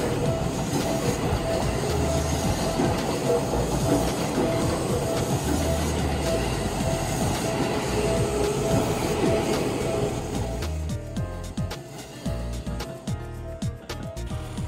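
A Seibu Railway train, the red Lucky Train near Tokorozawa Station, rolls past close by with a loud, steady rumble and rhythmic clatter of wheels over rail joints, easing slightly toward the end.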